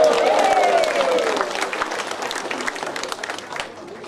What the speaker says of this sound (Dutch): Bedankt voor het applaus.